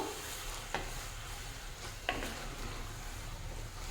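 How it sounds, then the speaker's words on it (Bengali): Spinach curry with prawns, taro, radish, eggplant and potato, dusted with coriander-cumin powder, simmers softly in a pan; two sharp utensil scrapes mark the stirring over a faint low sizzle, with no talking. "আবারও ভালো করে নাড়িয়ে দেব।"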